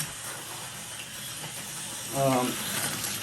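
An HO slot car with a 4-gear pancake-motor chassis runs on AFX track with a faint mechanical whir and buzz. A brief, louder rattling pass comes near the end.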